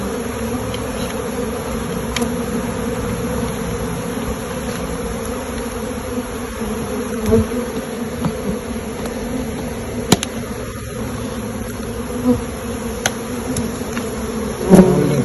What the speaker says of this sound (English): Bees with the pollen here in their legs.